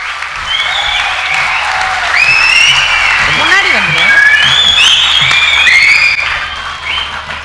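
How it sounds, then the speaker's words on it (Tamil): Loud, sustained clapping from a large audience at a Tamil debate-stage event at a book festival, with whistles and cheering rising over it and faint voices underneath. "ஒரு பலத்த கைத்தட்டலோடு பேச வருமாறு பாராட்டி அழைக்கிறேன்"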